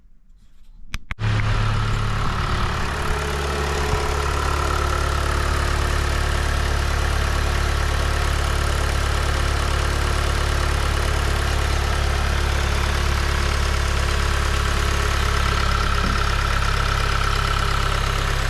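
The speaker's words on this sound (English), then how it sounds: "I guess that's normal sound. Idling down." A 2020 Hyundai Veloster 2.0 engine idles steadily and close by after a spark plug change, a constant low rumble with a faint hum that holds evenly after a brief start.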